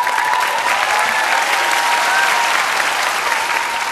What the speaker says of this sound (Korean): 개콘에서 박수는 내가 제일 많이 받습니다.